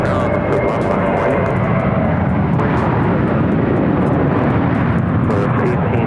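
An American Airlines jet takes off from runway 7 left at Phoenix airport, a loud, steady broadband engine roar that holds throughout with no break.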